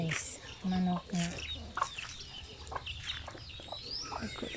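Chickens cluck and call at close range on a farm, with short bursts of hen vocalizations scattered through the clip and some faint voices and background noise in between.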